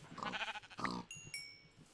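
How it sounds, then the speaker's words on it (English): A sheep bleats in Minecraft, with a short nasal bleat at the start followed by quieter game sounds and a few thin tonal chimes. "Ooh, a sheep."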